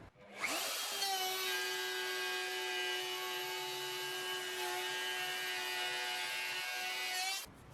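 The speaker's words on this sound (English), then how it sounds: "I've never had to do the same router cut 120 times before" Router cutting a wooden board with a loud, steady whine that starts abruptly, holds evenly for about seven seconds and stops sharply, with no voices.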